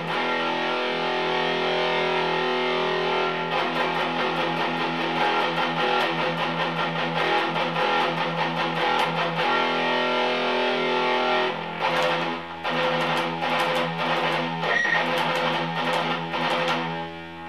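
Heavily distorted electric guitar through a PRS MT15 amp head plays continuously and loudly for the whole stretch, with chugging chords in the middle and sharper picked lead notes toward the end.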